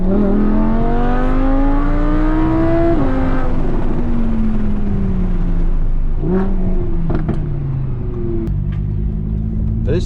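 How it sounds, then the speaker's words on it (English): A 2017 Vorsteiner Audi R8's engine revs loudly and climbs in pitch, then drops as gears shift, its exhaust note rising and falling repeatedly while driving close by. "And that red line plus your exhaust note, let me just see if you can hear this"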